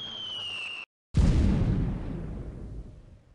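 Artillery explosion in Delta Force Land Warrior: after a short gap, a single loud, close boom hits and then rumbles away over a few seconds, with a thin whine heard before it.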